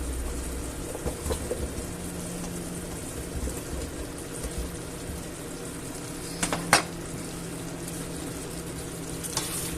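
Potatoes being stirred into a meatball stew pot, with a steady low bubbling and sizzle under a few soft scrapes and one sharper clink of the spoon near the end.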